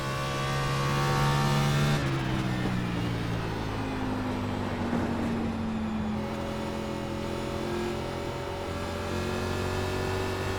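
Race car engines in iRacing's NASCAR Xfinity Series at New Hampshire drone steadily, with a strong engine note whose pitch shifts as cars shift and pass. No voices are heard.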